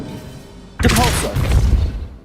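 A Depulso spell impact in Hogwarts Legacy arrives after a quiet lead-in as a sudden heavy thud with a bright burst, then trails off in a rumbling, crackling tail.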